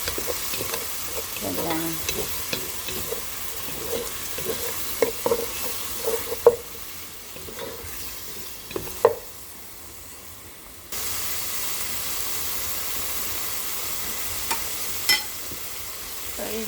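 Fresh tomato stirred in a hot frying pan, a spoon scraping and clacking in irregular strokes over a steady sizzle, with a short spoken word and a few louder knocks.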